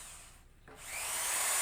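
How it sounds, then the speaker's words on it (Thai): A power drill bores a hole through a bamboo cup, a steady high whine that starts quietly and builds into a loud, continuous grinding buzz. "จากนี้เฮาก็ใส่สว่านมาเจาะหู"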